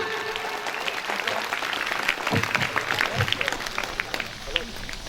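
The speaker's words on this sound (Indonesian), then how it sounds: "Yang di belakang tepuk tangan lagi" An audience at a regional sports committee event claps in dense, continuous applause, moderately distant, with voices talking and calling out underneath.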